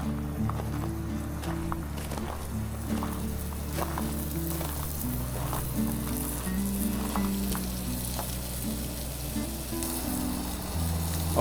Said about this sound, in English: cooking our first steak on our little Coleman camper grill